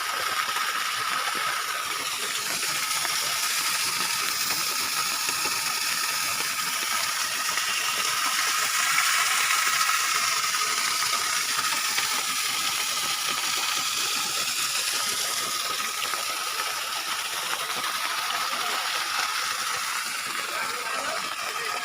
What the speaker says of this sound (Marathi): जे धारेचं पाणी आहे ते इथून खाली येऊन खाली हे सरोवराकडे जात आहे